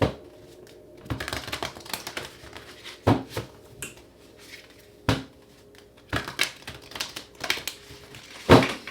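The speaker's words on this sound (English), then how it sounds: "Let's get 2 more shuffles" Tarot cards are shuffled in a quiet room, a series of separate riffling bursts and soft slaps spaced a second or two apart, close and crisp.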